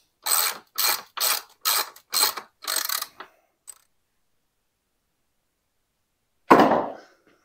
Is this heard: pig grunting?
no